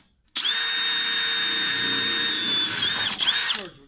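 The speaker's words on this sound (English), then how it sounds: "Does it pain you to see me drilling holes in your car?" A power drill bores holes in a car, a steady high-pitched whine holding for about three seconds before briefly dipping and winding down.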